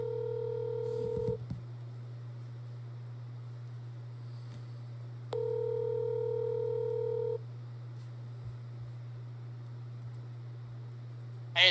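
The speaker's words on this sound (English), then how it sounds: "so we're going to give him a call right now." A cell phone rings out while calling a guest: a steady low tone plays under two long ringback beeps a few seconds apart, and there is no talk.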